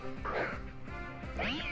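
Meowstic's cry in Pokemon Y, a pair of loud, close electronic cat-like meows with rising and falling tones, set over steady game battle music.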